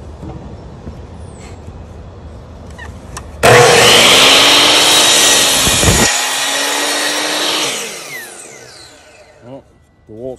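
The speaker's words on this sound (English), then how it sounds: "Let's see what the Dewalt does." A DeWalt 10-inch, 60-tooth miter saw blade spins up and slices through a piece of wood, a loud whining cut lasting about four seconds before the motor winds down.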